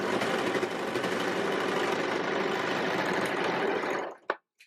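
A sewing machine runs steadily to finish a seam on a costume outfit, a close, fast, even whirring hum for about four seconds before stopping, followed by a couple of small clicks.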